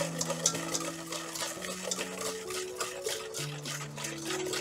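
Milk and cream mixture slowly stirred into beaten eggs for eggnog, a steady soft swishing and liquid churning with faint clinks of a utensil against the bowl, close and continuous, with a low tonal hum underneath.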